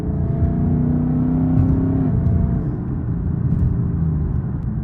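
A Ford Mustang GT with an automatic transmission accelerates hard, its engine rumbling loud and close with a rising drone that shifts pitch near the two-second mark, heard from inside the car without talk.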